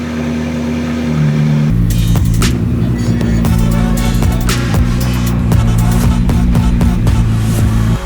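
A McLaren engine cold starts with a quick crank, then settles into a loud, steady high idle with a tight, even drone, close by and alone.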